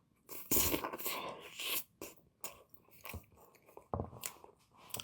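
Close, crisp bites into food spread with apple butter, followed by a few seconds of moist, crunchy chewing in short bursts with brief quiet pauses between.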